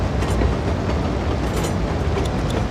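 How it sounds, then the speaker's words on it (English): A train in the city-building game Cities Skylines 2 runs through a trench with a loud, steady rumble and faint clatter of wheels, continuous throughout. "And the train line pulls into the station."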